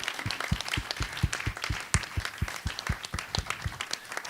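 An audience applauds at an international cross-innovation conference, with dense rapid clapping from many hands, fairly close and steady for a few seconds, no talking over it.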